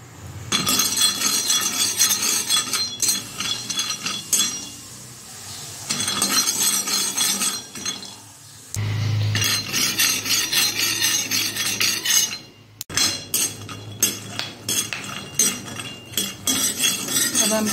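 Peanuts roasting in a pan while being stirred, making loud, dense gritty rattling and scraping that repeats in bursts, broken by a couple of brief pauses.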